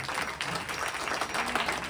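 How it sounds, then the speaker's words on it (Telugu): Audience applause at a Ganesh celebration event, brief and fairly faint, a dense patter of many hands clapping throughout. "Claps claps claps."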